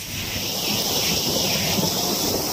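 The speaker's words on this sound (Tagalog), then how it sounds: "Lakas ng hangin." Strong wind from typhoon Kabayan roars across a rocky coast with boats nearby, a loud, unbroken rushing buffet that batters the microphone and drowns out everything else.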